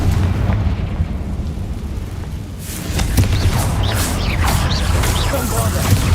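Hogwarts Legacy combat with a Confringo blasting spell, a loud rumbling burst and whooshing effects rising partway through over a constant din, with a voice calling out amid the action.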